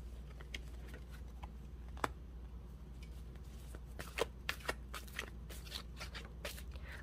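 Tarot cards are shuffled and drawn up close in a quiet room, with soft riffling and a series of crisp, brief card snaps and flicks, louder toward the end.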